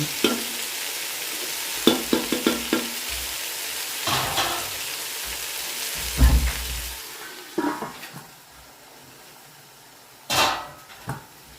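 Vegetables for vegetable biryani sautéing in a pan, a low sizzle broken by intermittent stirring scrapes and a few louder clanks of the spoon against the pan, close by.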